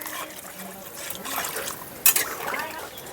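Water poured into a pot of rui fish curry masala, a soft liquid trickle with a brief louder splash partway through, close and moderately quiet in a home kitchen.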